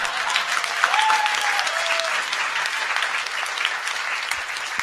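Audience at a talk on public speaking applauding: a dense, continuous wash of many hands clapping at even loudness throughout, with no speech over it.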